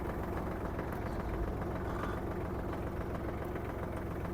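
A Kubota GL-25 mini tractor runs with its side hydraulic cylinder working, a steady low engine drone with faint knocking vibration that stays even and continuous throughout, close by and without speech.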